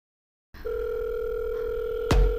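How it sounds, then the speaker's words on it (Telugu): A phone ringback tone on an outgoing call: after a moment of silence, a steady electronic tone sounds continuously, with a brief click or thump near the end. "రింగ్ అవుతుంది."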